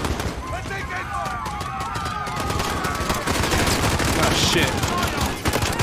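Heavy automatic gunfire in Modern Warfare (2019), close, dense bursts of rapid shots running continuously under a voice that swears briefly.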